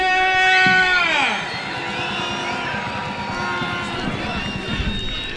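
A large crowd of football fans roars and cheers at a legends match between Estonian players and Zenit 1984, loud at first then settling into a sustained murmur of many voices with shouts rising again near the end.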